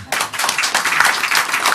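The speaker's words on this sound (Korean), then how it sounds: "박수 한번 보내주세요" Dense applause from a group of attendees at a Korean city department heads' meeting, starting abruptly and holding a steady, close clatter of many hands for nearly two seconds.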